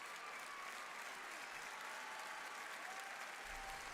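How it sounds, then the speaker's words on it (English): WWE fans in an arena applaud a Women's Intercontinental title match at Backlash 2025, a constant, even roar of clapping heard from a distance and fairly faint. "applauding this great matchup for the Women's Intercontinental title"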